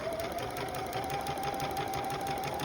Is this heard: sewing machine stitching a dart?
yes